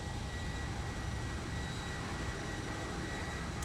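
Flight Factor 757 jet engines in the X-Plane 11 flight simulator: a steady, broad roar of airliner engines with a constant whine, droning evenly throughout with no talking.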